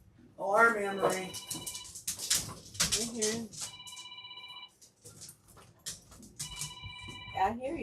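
An electronic alarm beeps in repeated steady bursts with gaps between them, while a person talks loudly over and between the tones.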